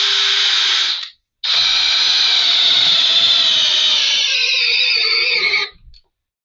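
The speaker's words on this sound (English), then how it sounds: "drilling it as straight as I possibly can" A power drill bores a straight hole through the wooden base of a mobile beehouse. A short whine is followed by a brief pause, then a longer, loud, steady drilling whine that tapers off as the drill stops.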